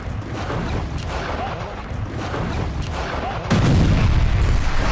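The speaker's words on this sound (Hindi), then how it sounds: "हमा को विद्रोही कब्जे से बचाने के लिए बमबारी की जा रही है" News footage of the bombardment of Hama by Assad and Russian forces carries a dense rumble of distant booms and artillery fire, swelling into a louder, heavier blast partway through.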